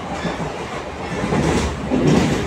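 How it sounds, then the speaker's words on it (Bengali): An empty ladies' compartment on a Katwa line passenger train carries a loud, continuous rumble of the carriage in motion, with wheel clatter rising slightly toward the end. "এটা হচ্ছে কাটোয়া লাইনের ট্রেন"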